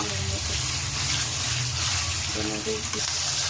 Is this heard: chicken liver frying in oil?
yes